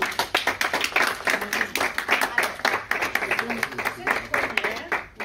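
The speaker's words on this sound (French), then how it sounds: "Et on peut applaudir déjà la ville de Noisy-le-Sec entre nous." Audience clapping at a civic cultural event in Noisy-le-Sec, France, a steady patter of many hands close by lasting the whole moment, with speech mixed in underneath.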